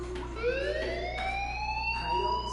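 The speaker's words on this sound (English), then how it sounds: "Hey, do you hear that fire alarm?" A fire alarm wails in the video game Life Is Strange, a loud, steady rising electronic tone sweeping upward with a constant hum beneath, no talking over it.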